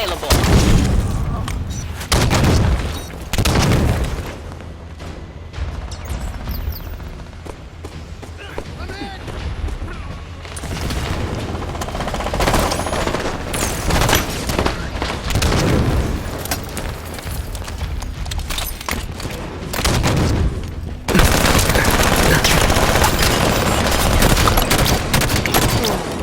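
Dense gunfire and explosions in a Halo 5: Warzone battle, a long steady barrage with heavy booms and crashes throughout, alongside radio-style callouts.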